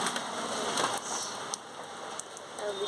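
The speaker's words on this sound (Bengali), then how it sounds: "আমাদের এখানে বৃষ্টি হচ্ছে," Morning rain falling steadily, a dense even patter on surfaces nearby with a few sharper drops, heard alone without voices.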